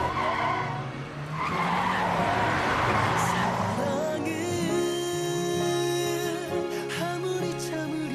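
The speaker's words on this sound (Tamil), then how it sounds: "வண்டி வண்டி." A vehicle skids, a long screeching tire squeal over engine roar that holds loud for several seconds before giving way to a sustained tonal hum, with no talk.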